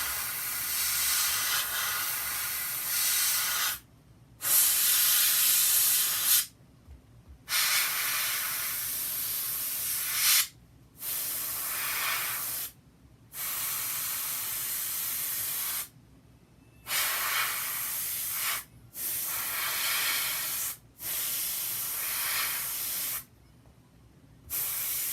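An airbrush sprays paint onto a model in repeated bursts of steady hiss, each lasting about two seconds with short silent gaps between them, close and fairly loud.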